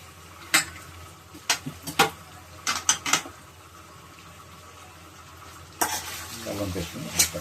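Ginger paste frying in a pan, with a few sharp spoon scrapes and taps against the pan early on, then a louder stretch of sizzling and stirring near the end, no voices.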